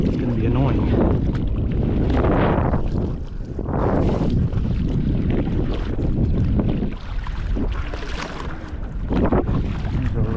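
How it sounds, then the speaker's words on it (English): Heavy wind buffets the microphone at a shoreline, a loud continuous roar and rumble with gusting surges throughout. "Wind is going to be annoying."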